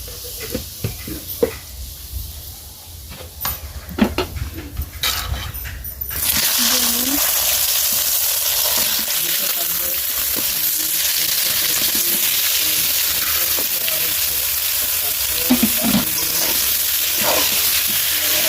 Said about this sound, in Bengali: বেগুনগুলো লাল করে ভেজে নেব।